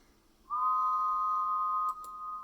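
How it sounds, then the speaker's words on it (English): A single long, steady steam engine whistle blast holds one high pitch for about a second and a half, then drops to a softer continuing tone. "he whistled loud and long"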